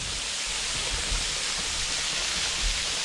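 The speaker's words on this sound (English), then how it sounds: "here we are at the trickling down of Lower Westcliffe Falls, Lower Cliffview Falls" Water trickling and rushing where Lower Westcliffe Falls and Lower Cliffview Falls meet in a riverbed in Ontario, a dense, steady hiss with faint low rumbles and no voices.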